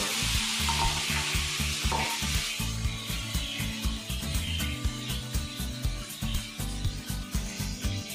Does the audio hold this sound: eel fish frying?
yes